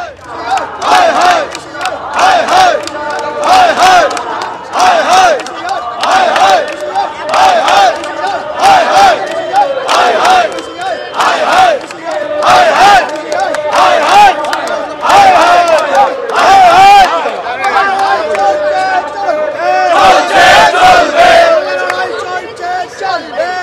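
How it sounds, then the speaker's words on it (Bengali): Protesters at a blockade chant slogans as a crowd. A lead voice calls out and many voices answer loudly in a steady, repeating rhythm throughout. "তারা এই মুহূর্তে অবরোধ করছেন, ওখানে একেবারে স্লোগান দিচ্ছেন"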